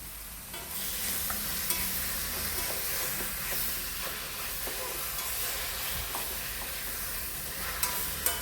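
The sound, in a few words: stirring chicken liver and gizzard in a frying pan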